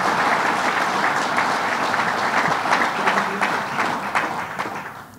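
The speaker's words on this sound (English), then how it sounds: "let's give him a big round of applause and thank him for what he's doing here." A big round of applause from the audience at a governor's State of the State address, loud, dense clapping that fills the room steadily and then begins to thin and fade toward the end.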